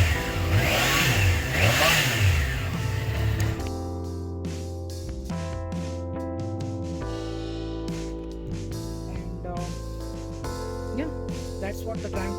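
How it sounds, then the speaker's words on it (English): A 2021 Triumph Trident 660 motorcycle engine idles steadily, then gets a quick rev that rises and falls. Loud, close, and mechanical throughout, with no talking. "So this is how the engine sounds like at idle. A quick"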